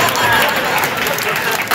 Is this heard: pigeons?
no